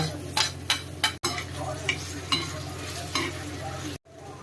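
Onion and tomato fry in a pan with a steady sizzle, punctuated by sharp clinks and scrapes from a spoon stirring against the metal.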